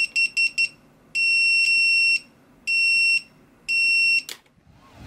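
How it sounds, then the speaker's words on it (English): A beeper on a ViFly X150 sub-250g FPV quadcopter sounds as a series of loud, high electronic beeps: three quick short chirps, then three longer sustained tones with gaps between, followed by a brief click. "we have beeper"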